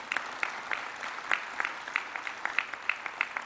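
An audience at a national scholarship medal award ceremony applauds a young recipient, steady clapping with sharper individual claps standing out throughout, no talk over it.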